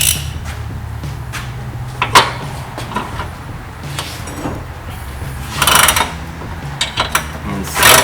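An 18 mm socket wrench ratchets on a rear CV drive axle nut of a Polaris RZR XP Turbo side-by-side. Close mechanical clicks and short ratcheting bursts sit over low background hum, with a louder burst toward the end.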